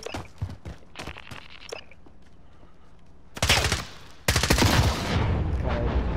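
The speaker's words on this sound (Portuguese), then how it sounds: "Ele pensou que era você que tava dando tiro nele." Gunfire in the video game Call of Duty: Modern Warfare, with a few sharp scattered shots and footsteps early on, then two loud sustained bursts of automatic fire close by, with little talk.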